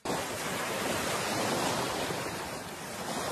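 Sea waves wash onto the beach at Qeshm island, a steady, hissing rush of surf with no voices.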